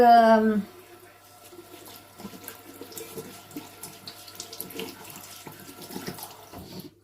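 Tap water runs and splashes as a Foreo Luna 4 Plus facial cleansing device is rinsed at a sink, a steady close trickle following a short voice at the start.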